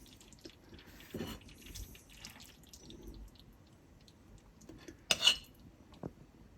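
Baked cheese macaroni with lardons, with a browned crust, is served onto a plate. Soft utensil scrapes and clinks sound quietly at first, then a louder clatter comes near the end.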